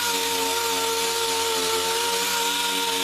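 A small dual action air sander runs steadily on a Chevy Astro / GMC Safari radiator core support, a loud continuous high-pitched whine with a constant tone that holds for the whole stretch before cutting off abruptly at the end.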